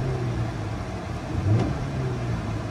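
A 2019 Honda Accord 2.0T with an upgraded throttle body idles with a steady low engine hum, then gives one short, mild rev that swells and settles back down.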